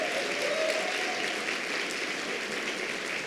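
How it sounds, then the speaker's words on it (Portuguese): A church congregation applauds first-time visitors during a morning service, a steady, fairly even wash of many hands clapping that fills the room for the whole stretch without voices on top. "Uma salva de palmas àqueles que nos visitam hoje."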